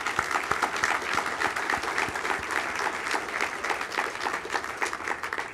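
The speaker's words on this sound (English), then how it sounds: "if we could give Mike and Mary a round of applause" Steady applause from an audience at a community service celebration dinner, many hands clapping continuously at moderate volume throughout.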